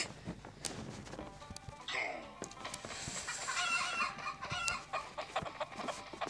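Cartoonish chicken clucks and rooster crowing from the Stickman Party video game, a busy cluster of fowl calls with a brief squawk near the middle, loud and continuous over game effects.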